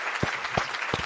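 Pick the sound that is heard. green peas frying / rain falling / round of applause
round of applause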